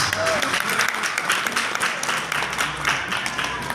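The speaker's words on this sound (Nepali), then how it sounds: "अब कार्यक्रम सुरु भइसकेको छ, कृपया दिल खोलेर ताली बजाइदिनुहोस्।" Audience applause opening a Nepal Film Artists Association general assembly and awards ceremony in Kathmandu, a dense, steady wash of clapping from a large crowd that continues throughout.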